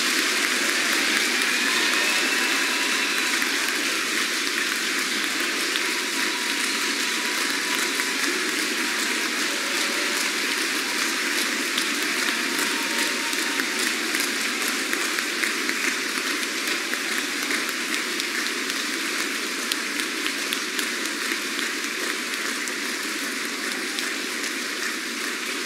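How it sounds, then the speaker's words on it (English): Sustained applause for the graduating soldiers of Bravo Battery at an Army field artillery graduation at Fort Sill, Oklahoma, a steady dense wash of many hands clapping at even loudness for the full length, with no talk over it. "Please give all these very deserving soldiers of Bravo Battery a round of applause."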